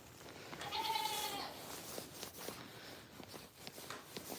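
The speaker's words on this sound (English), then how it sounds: "She's a sweetheart of a goat." A goat on a farm lets out one clear, wavering bleat near the start, followed by shuffling and rustling noises.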